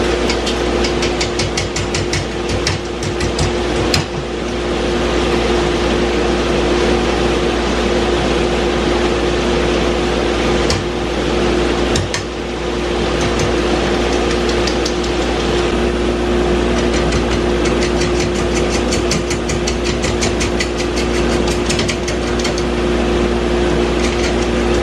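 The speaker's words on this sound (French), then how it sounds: "Donc je vais tourner à cette vitesse-là, améliorer sa rondeur" A wood lathe spins a green wood bowl blank at a steady speed, giving a continuous loud mechanical hum with an even drone and scattered knocks and rough scraping bursts throughout, with no talk.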